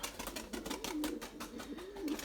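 White Erzurum pigeons coo softly in their loft, several low rolling, warbling calls overlapping in a quiet, close, continuous murmur.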